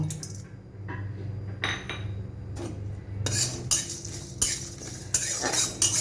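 Whole spices dry-roasting in a kadai on a gas stove, stirred with a metal spoon; clinks and scrapes against the pan arrive in bursts, growing busier and louder toward the end over a low steady hum, with no voices.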